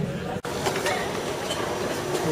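Train station at Geneva Airport with a steady rumbling, hissing rail ambience and a brief dropout near the start, no voices.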